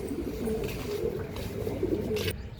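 Branded pigeons brought from Andhra coo softly in a loft in Pandharpur, a low murmuring warble repeating over a steady background hum, fairly near but not loud.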